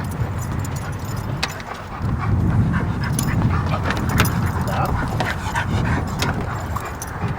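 About 340 pounds of excited large dogs pant and whimper inside a car, a loud, busy, continuous clamour with jangling keys and rustling mixed in.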